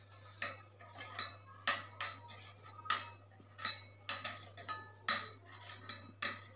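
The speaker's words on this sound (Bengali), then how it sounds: "আর এদিকে মাছের ডিমগুলোকে গুঁড়ো গুঁড়ো করে দেবো" Utensil scraping and tapping against a pan while crumbling fish roe, a run of short clinking knocks in an irregular rhythm, close and fairly quiet, with no talking.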